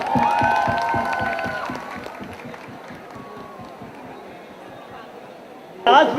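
Audience at the Jackpot movie music launch with Sunny Leone and Sachin Joshi claps and cheers in a steady rhythmic burst, fading after a couple of seconds into crowd murmur, with a brief loud swell at the end.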